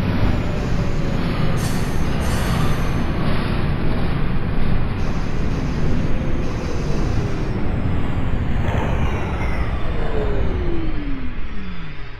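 A Manhattan-bound 2 subway train in the OpenBVE simulator rumbles steadily along the track, with loud continuous rolling noise, a rising motor whine and squealing wheel tones near the end.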